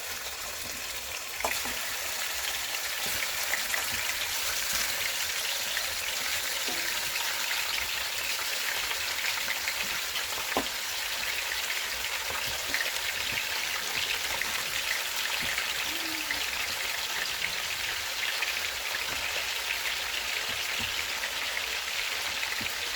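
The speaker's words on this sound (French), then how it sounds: "j'ai mis de l'huile dans les marmites et je vais mettre l'agneau dans chaque marmite" Lamb frying in hot oil in cooking pots, a steady close hiss and crackle with scattered pops, continuous and even throughout with no talking.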